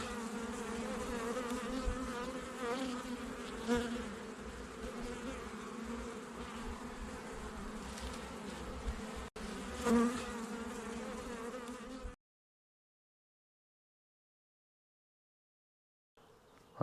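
Honey bees at a hive in an outdoor apiary, a dense continuous buzz close to the hive, with a few louder swells as single bees pass nearby. The buzz cuts out near the end.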